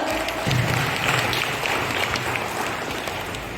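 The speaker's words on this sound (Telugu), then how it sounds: "Great applause for him. Please గట్టిగా చప్పట్లతో." Audience applause at a Telugu birth-anniversary commemoration event, a steady dense wash of clapping that holds for the full stretch at a fairly loud level.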